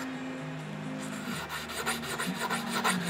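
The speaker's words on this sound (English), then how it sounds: "Anybody can hold a little piece of steel and work some sandpaper back and forth." A small steel leather stitching chisel is rubbed back and forth on sandpaper, giving a close, continuous gritty rasp with a steady rhythmic stroke.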